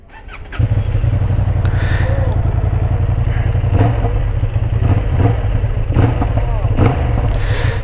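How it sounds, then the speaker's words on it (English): A Honda Hornet 750 motorcycle engine fires up on a racetrack and settles into a loud, throbbing idle, with brief clattering noises and a voice speaking over it. "Let's start the engine."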